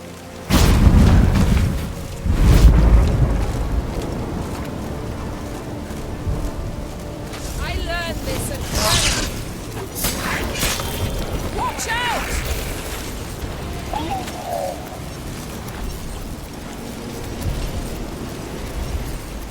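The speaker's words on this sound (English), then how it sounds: "A magic explosion of some sort." In The Witcher 3: Wild Hunt, a powerful magical explosion booms twice with deep rumbling blasts, then fades into echoing debris, creaking and ambient game sound, with voices talking later.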